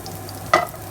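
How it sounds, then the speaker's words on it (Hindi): Two garlic cloves dropped into hot oil in a pan for a Hyderabadi tadka, a single brief sizzling burst mid-clip over a quiet background. "मैंने पैन में डाला और अब मैं इसमें लहसुन डालूंगी"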